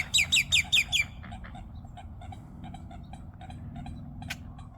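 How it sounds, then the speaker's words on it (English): Outdoors at a fishing spot, a bird gives a quick burst of four or five sharp, high chirps, then falls silent over a low background rumble with scattered faint ticks. "Bird right there."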